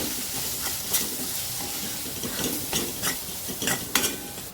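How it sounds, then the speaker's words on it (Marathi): Spices, with turmeric, garam masala and coriander powder, are sautéed in oil for dum aloo, giving a steady soft sizzle with repeated scraping stirs of a spoon in the pan. "सर्व मसाले आपल्याला छान तेलावर परतून घ्यायचे"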